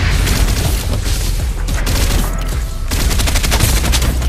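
Dense video game gunfire and blasts in Farlight 84 combat, with loud continuous booming volleys and rapid shots filling the whole stretch, a brief lull midway before the barrage resumes just as heavy.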